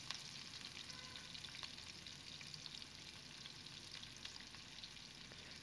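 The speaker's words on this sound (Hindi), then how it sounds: "तो फिर अदरक लहसुन पेस्ट डाल देते हैं।" Ginger garlic paste frying with onions in a pan for chicken curry, a faint steady sizzle with light crackles and small stirring sounds, no talking.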